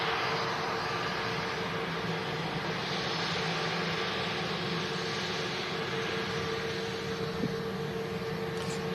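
A Qatar Airways Boeing 787-9 Dreamliner taxis out, giving a steady, distant jet rumble and hiss with a faint constant whine and no talking.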